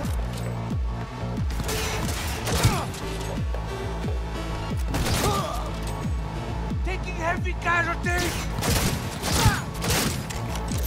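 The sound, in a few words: gunfire in a video game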